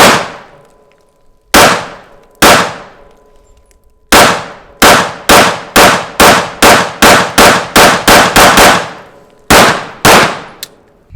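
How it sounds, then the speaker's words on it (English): A 9mm pistol emptied of a full magazine into a prosthetic leg outdoors, with two spaced shots, then a rapid, loud string of about a dozen cracks, a pause and a final pair of shots, each ringing out briefly. "Let's fire it off a whole mag and see what happens."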